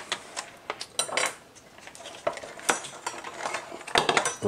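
Bolts and small metal parts clink and tap while a fender is taken apart on a 2021-or-later Yamaha MT-07 motorcycle, scattered sharp metallic hits at close range, some in quick clusters, over a quiet background.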